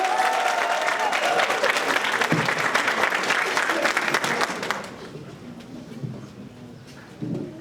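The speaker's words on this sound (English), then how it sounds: "TAPP candidates, give them a round of applause." Audience applause at a program completion celebration honoring candidates, dense crowd clapping for about five seconds that then fades to scattered claps and room noise.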